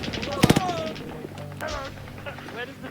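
Gunfire in a WWII military-simulation video game: a sharp close burst of shots near the start, then a distant crack and scattered faint pops, with players talking over the radio.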